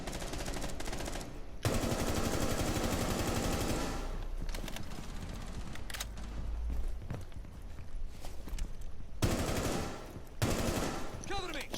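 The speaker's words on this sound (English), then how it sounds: "Just gonna throw some random bullets through this wall." Rainbow Six Siege gunfire is sprayed through a brick wall in a ranked match, with rapid bursts of automatic shots and a pause partway through, mixed with game effects and some voice in the background.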